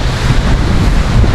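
Strong outdoor wind roars and buffets the microphone in a loud, steady rush with no letup and no voices.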